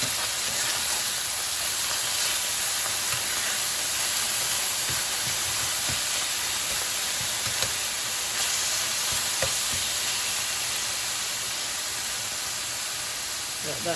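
Ground turkey sizzles steadily in a pan over medium heat, a continuous close frying hiss with occasional crackles and stirring scrapes, no talk.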